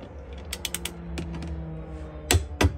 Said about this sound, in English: We're gonna run these down with the socket, but not super tight